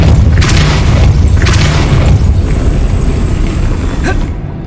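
The Depulso force spell cast in Hogwarts Legacy: a loud, deep rumbling boom that starts at once and holds steady before fading, with a few sharper crackling bursts on top.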